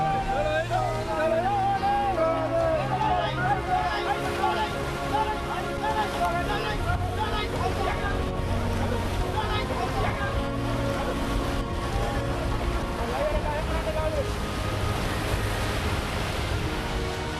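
High ocean waves surge and wash heavily around a fishing boat off Mauritania with a constant roaring noise, wind and distant voices mixed in, the churn lasting throughout.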